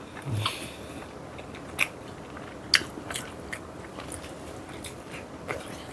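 Chewing and biting into Papa John's pizza and hot wings, close and quiet, with a few sharp crunchy bites spread through steady soft mouth sounds.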